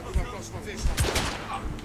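Shotgun blasts in the video game The Order 1886, a few sharp loud bangs, spaced irregularly, mixed with someone talking excitedly over the gunfire.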